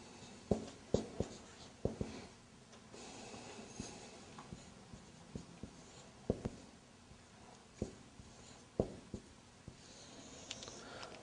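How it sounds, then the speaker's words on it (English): Writing out an example during an Arabic grammar lesson, faint scratching strokes close by, broken by repeated sharp taps and clicks spaced irregularly across the stretch. "I'm going to write down."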